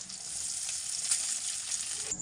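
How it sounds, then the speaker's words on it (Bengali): Cashews and raisins frying with rice in a pan for fried rice make a steady, bright, close sizzle that holds evenly throughout. "এবারে কাজু কিশমিশটা ভাজা হয়ে গেছে, এবারে আগের থেকে রাইস করে রাখা রাইসটা আমি দিয়ে দেবো"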